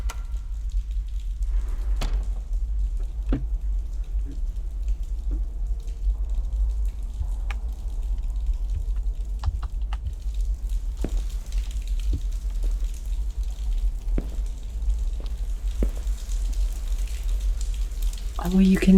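Rain falls on hot asphalt in a video game, heard as a soft, steady sizzling hiss with a low hum underneath and scattered faint ticks and crackles throughout.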